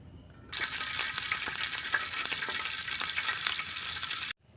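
Oil bursts into a loud, steady sizzle in a pan over a campfire-style forest camp cooking setup, starting abruptly after a quiet moment and holding a dense crackling hiss until it cuts off at the end.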